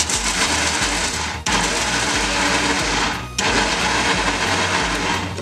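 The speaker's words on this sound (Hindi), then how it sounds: "अब हम इसे ग्राइंड करेंगे" A mixer grinder grinds peanuts with salt, sugar and oil, a loud steady whirring roar that cuts out briefly twice and restarts, in short pulses.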